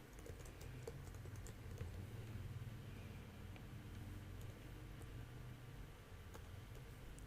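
A username being typed on a computer keyboard, with soft, quick key clicks in an irregular stream over a steady low background hum, faint and close.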